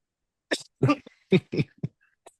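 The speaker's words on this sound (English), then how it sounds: "There's the cough." A burst of several harsh coughs in quick succession, close and loud, followed by a short pause and one faint final cough.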